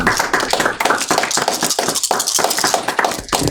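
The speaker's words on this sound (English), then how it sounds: "Everybody just keep clapping." A group of people clapping together after a live Spelljammer tabletop one-shot, sustained applause with rapid overlapping hand claps, close and steady throughout.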